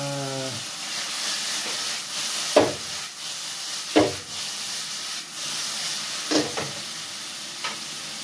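Chicken feet sautéing with onion and tomato in a hot pan give a steady sizzle and hiss, broken by a few sharp stirring scrapes and clacks of the utensil, close and fairly loud with no talk.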